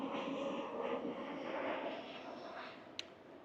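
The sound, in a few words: Virgin Airlines aeroplane flying overhead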